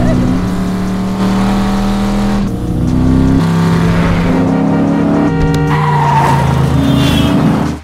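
A car chase from the film Drive, with loud engine roar and squealing tires carried over sustained, pulsing musical tones that shift pitch throughout.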